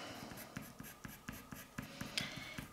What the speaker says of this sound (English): So I'm literally just pushing this pastel.